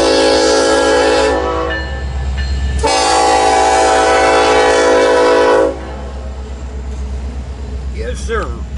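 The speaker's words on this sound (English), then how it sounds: "This train 2 appears to be going to Omaha." An eastbound freight train passes in Fremont, Nebraska, with a loud, sustained horn blast that breaks off partway through over a steady rumble of rolling cars, then continues as a lower rumble with a faint voice near the end.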